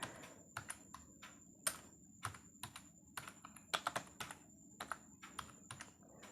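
Rapid, uneven keystrokes on a computer keyboard as a name is typed, crisp and close, a steady run of clicks with short pauses and no talking.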